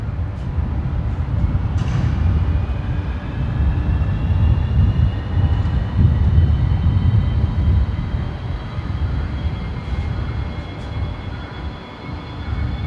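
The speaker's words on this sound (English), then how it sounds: "I can hear a Fokker on startup loud and clear as well." A Fokker aircraft engine starts up at Brisbane Airport, a loud, sustained low rumble with a rising turbine whine layered above it, steady over many seconds.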